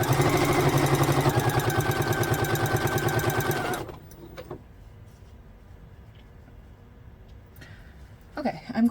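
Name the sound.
sewing machine stitching quilt pieces from men's shirts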